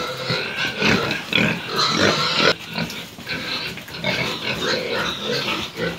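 Hungry farm pigs grunt and squeal at feeding time, a dense, continuous chorus of overlapping oinks and snorts close by with scuffling in the pen, and no talking over it.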